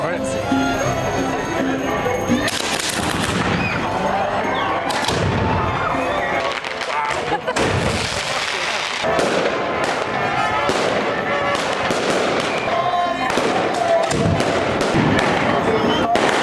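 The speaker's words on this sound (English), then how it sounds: "There's going to be more fireworks than this." Rapid bursts of fireworks exploding nearby in mainland Mexico, loud cracks and booms tumbling over each other with crowd noise in between.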